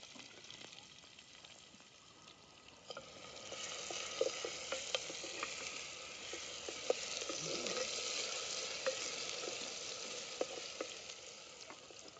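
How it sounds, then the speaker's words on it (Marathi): Chopped onion and garlic fry in oil in a pan outdoors, a steady soft sizzle that swells in the middle, with occasional small pops and clicks, fairly faint throughout. "आता लसूण चांगला तळला की कांदा टाकून घेते"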